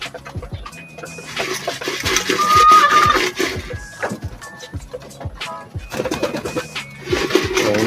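Racing pigeons arriving at a loft, with steady cooing and bird calls over clattering and rustling movement, and a voice speaking briefly in the background.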